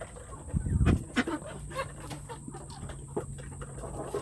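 Broody hens cluck in a coop: several low, throaty clucks and short calls, close and fairly loud at first, then scattered softer clucks over a faint background hum.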